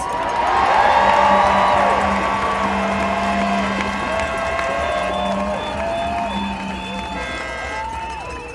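A large rally crowd cheers, whoops and applauds loudly and continuously, with voices blending into a roaring wash that swells early and then holds steady.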